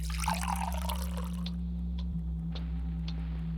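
Sink water running in the video game I Must Have Coffee: a steady splashing stream that stops after about a second and a half, leaving a few faint drips over a constant low electrical hum.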